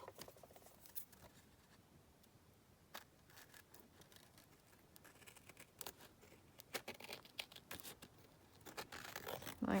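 Scissors snip around the edge of a paper craft corner pocket embellishment, giving faint, close, crisp cuts in short irregular bursts over a quiet background. The cuts grow denser and louder toward the end.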